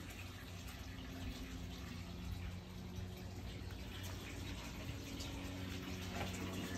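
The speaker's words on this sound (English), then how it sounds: "Water feature there up front." An outdoor water feature at the front of a house runs steadily, a soft continuous splash and trickle heard alone at low level throughout.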